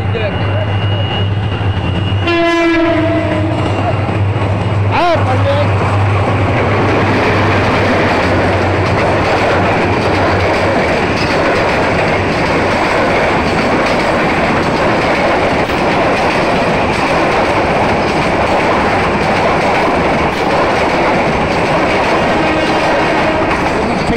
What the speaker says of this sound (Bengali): ট্রেন আসতেছে এই দিক থেকে। অনেক স্পিডে যাইতেছে ট্রেন, অনেক স্পিডে।